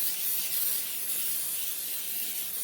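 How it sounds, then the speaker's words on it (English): Butter-flavored cooking spray hissing from an aerosol can as it greases a casserole pan, one continuous close, breathy spray lasting the whole moment with no talk. "do not forget to grease your pan. Cooking spray, butter flavored."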